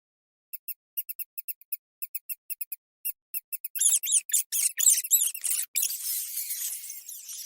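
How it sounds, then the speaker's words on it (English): Rapid high-pitched squeaks in quick bursts, starting sparse and then building into a dense, loud chorus of chattering squeals near at hand. "That noise. What's that? Bogies is rats, and rats is bogies. It's the rats."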